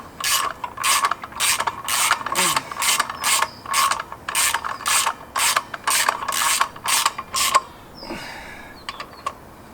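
A ratchet winds thread-locked bolts into the flex plate of a Land Rover Defender with a 4.6 V8 conversion, producing a close, steady run of evenly spaced ratcheting bursts that ends in a few faint clicks.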